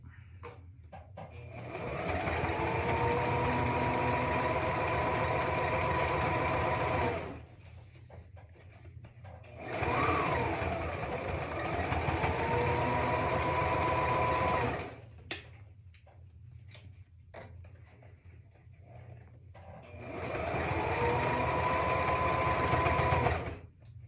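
A sewing machine stitches a child's hat in three long bursts of rapid, buzzing stitching, close and loud, separated by short pauses with light handling clicks.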